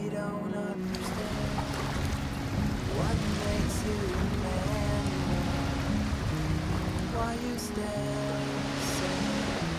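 Waves lapping on Lake Tahoe, a large freshwater alpine lake high in the mountains, a continuous wash of surf with a steady tonal hum layered over it and no talk.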